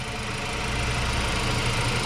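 A 2024 VW Atlas Cross Sport's 2.0-liter engine runs with a steady, dense mechanical hum, heard close up and loud without interruption.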